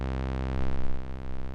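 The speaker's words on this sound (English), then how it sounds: "On its own, the bass sounds like this." A modded Korg Monotron analog synth plays a big, dark, dry bass note, a steady buzzy drone with rich harmonics that swells slightly in the second half, alone with no other sounds.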